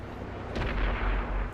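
Heavy 152mm tank cannon in a tank video game, a single deep boom with a rolling low rumble that swells and lingers over steady battle background noise, no talking.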